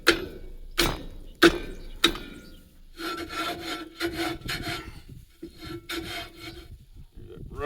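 A trailer wheel hub scrapes and rubs as it turns, with a few sharp knocks at the start and then a run of rough, repeated rasping strokes close by.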